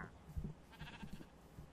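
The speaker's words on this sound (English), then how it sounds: "the llamas are gonna kill me" Llamas in Minecraft bleating and grunting in short, low, rough calls, several bursts close together at moderate volume over a faint game background.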